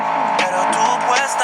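A car drives in the Fortnite battle royale video game, a steady engine drone with brief revving surges, heard close and alongside game music, with no talk over it.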